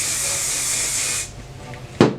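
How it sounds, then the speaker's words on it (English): A spray bottle misting product during a makeup routine, a steady close hiss of spritzing that cuts off after about a second, followed by a brief sharp click or tap. "Okay, so what I do is I just added a little spray,"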